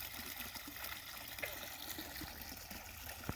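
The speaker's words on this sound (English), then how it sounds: "I built up my waterfall." Water trickles down a small homemade waterfall on a bait pond at dusk, a soft, continuous splashing dribble that stays faint and even, with an occasional brief louder plop.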